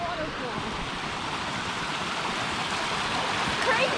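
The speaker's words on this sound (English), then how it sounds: "There's a massive waterfall." Running water from a mountain stream and a large waterfall along the Snow Lake Trail at Snoqualmie Pass, heard as a steady, continuous broadband rush that stays loud and even throughout with no talking.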